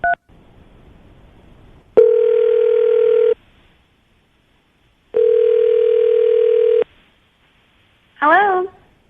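A telephone dial tone sounds before a radio call: two steady, loud tone blocks separated by silence, then a brief burst of dialing tones at the end.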